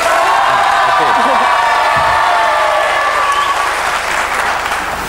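Loud applause mixed with cheering from a studio audience on a quiz show, a dense sustained roar of clapping with whoops and crowd voices, easing slightly toward the end.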